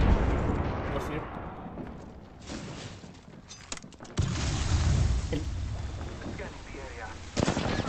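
Frag grenade blasts and heavy gunfire in a competitive shooter match, booming explosions and rumbling bursts one after another, loud and close, with game voice callouts over the action.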